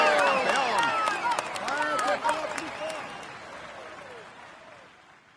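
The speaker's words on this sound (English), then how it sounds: "Come on, let's applaud him once more." Video game crowd applauding the Tour de France 2018 winner Greg Van Avermaet, a dense wash of clapping and cheering that starts loud and gradually fades away, with sharp whistles and overlapping voices rising through it.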